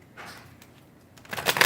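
Tarot cards are shuffled by hand close by, a soft riffle early on and then a louder, crisp flurry of flicking cards near the end.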